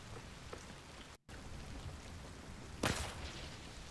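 Steady rainfall in the video game Hunt: Showdown, a soft continuous hiss of drops with a brief dropout and a sharper crackling burst near the end.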